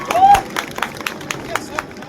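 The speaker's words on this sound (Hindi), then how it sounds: "मैं चाहूँगा आप लोग एक बार मेरे बाबू के लिए ताली बजा दीजिए" An audience claps for a dancer at a stage event with scattered, uneven claps over crowd murmur, beginning with a brief louder burst and then thinning into sparse hits.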